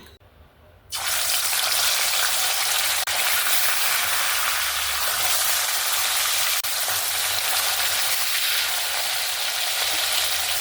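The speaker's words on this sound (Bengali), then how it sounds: "তেলটা একদম সুন্দরভাবে গরম হয়ে গেছে। এবার আমি একে একে মাছগুলো ছেড়ে দেব।" Silver carp pieces dropped into hot oil in a wok set off a sudden loud, hissing sizzle after a quiet second, which then roars on steadily and evenly, with occasional faint clicks.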